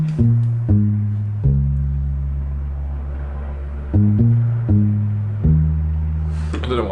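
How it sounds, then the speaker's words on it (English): A bass line programmed on keyboard plays deep, sustained synth notes in a repeating phrase, each note attacking cleanly and holding, loud and alone with no talk. "The other element is the bass"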